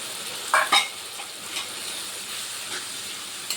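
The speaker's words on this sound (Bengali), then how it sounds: "যে সুন্দরভাবে ফুটছে, তেলটা ফিরে যাচ্ছে মশলা থেকে," Spiced masala with tomato paste cooking down in oil in a pan, a soft continuous sizzle and bubbling hiss with a couple of brief stirring scrapes near the start, no voices.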